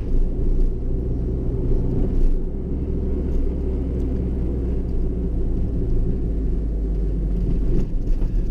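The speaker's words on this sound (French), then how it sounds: "cette petite voiture elle se conduit bien" An old Renault Twingo, a small car, drives along a road, heard from inside as a loud steady low engine and road rumble that continues throughout with no talking.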